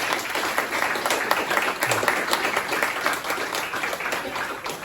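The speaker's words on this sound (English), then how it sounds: "Round of applause to the panel, please." Audience applause for a panel at a community event, steady dense clapping throughout at moderate level with no talk over it.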